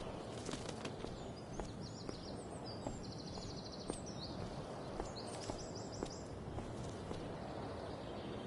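A bird in Life is Strange: Before the Storm takes off with a rapid flurry of flapping wings, faint and repeated in short bursts over a steady outdoor hiss, with light chirps mixed in.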